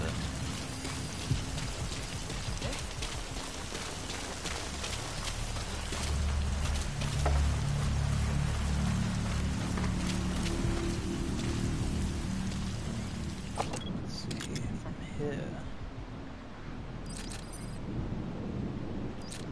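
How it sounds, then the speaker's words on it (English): Steady rain falls in the stealth video game Metal Gear Solid V, a dense, even hiss with low rumbling that continues throughout, sometimes with faint thunder, and no talk. "Sound of rainfall should help to mask your footsteps."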